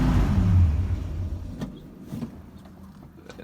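A car engine at its first start of the season struggling to idle, with a low rumbling engine note that sags and fades after about a second and a half, leaving quieter irregular sputters and clicks.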